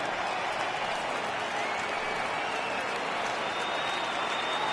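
A baseball stadium crowd of over 39,000 on its feet, applauding and cheering in a dense, continuous roar of clapping that holds steady and fairly loud throughout, with no clear talk on top.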